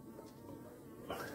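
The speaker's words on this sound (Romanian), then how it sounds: "când acolo un buș de albine, totdeauna un bușul de albine e și matca" Swarm of honey bees around a hive, a dense close buzzing hum that swells slightly near the end, no voices.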